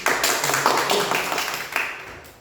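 Students in a classroom clap their hands in a short, uneven round of applause, a few sharp claps standing out near the start and middle before it fades away.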